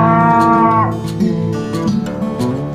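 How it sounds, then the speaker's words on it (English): A cow moos, one long, loud, tonal low with a slight shift in pitch partway through, heard alone and close up. "And guys, big size cow and a small size cow."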